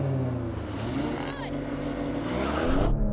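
Porsche and Alfa cars drag racing, engines roaring loudly and steadily throughout with a pitch sweep from a passing car midway, rising in volume toward the end, with people talking over it.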